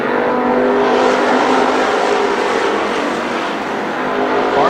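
Race cars roar together in a main event at Columbus Motor Speedway, a loud, steady wall of engine noise with no break and no voices.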